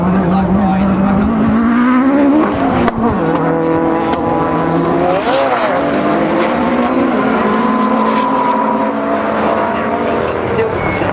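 Rallycross cars race at Silverstone, engines roaring close and loud with rising and falling pitch as they pass and shift, under a commentator talking throughout.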